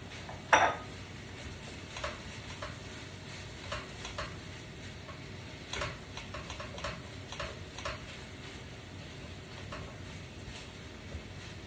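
Ground beef stirring in a pan, with a soft steady sizzle and scattered scraping clicks of a utensil against the pan.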